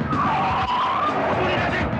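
A driverless car lurches off with a loud tire skid and a revving engine, close and continuous for a couple of seconds, while excited voices shout over it.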